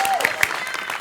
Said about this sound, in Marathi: टाळ्या वाजवा त्यांच्यासाठी